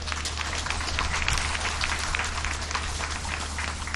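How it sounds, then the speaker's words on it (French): Audience applause at a public cultural ceremony in Kolwezi, DR Congo: a dense, steady wash of clapping that holds even for four seconds over a low electrical hum, with no clear voices. "Applaudissons pour elle."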